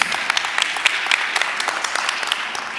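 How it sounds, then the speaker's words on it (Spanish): An audience at a Spanish-language church talk bursts into steady applause, a dense wash of many hands clapping at close range for the whole stretch. "Den un aplauso a Johan."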